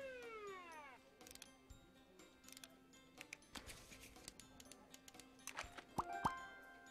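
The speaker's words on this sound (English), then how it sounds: "This kitten is as sick as a dog." A sick kitten in the video game Scribblenauts gives a short descending meow at the start, followed by scattered clicks, plops and small game effects, all quiet and soft.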